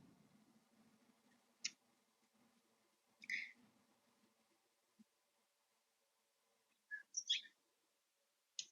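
Bird calls during a live trading stream, heard as several short chirps at about 1.7 s, 3.3 s and 7 to 7.4 s, plus a final call at the end, clear over a faint low room hum.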